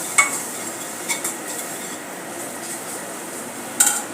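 Ground spices, including cumin powder and black salt, are stirred and dry-roasted in a pan over a low flame for papdi chaat, with a soft constant hiss and a few light spoon taps.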